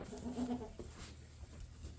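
A dappled Boer goat buck in a barn gives one short nasal bleat near the start, fairly close, followed by quiet barn ambience.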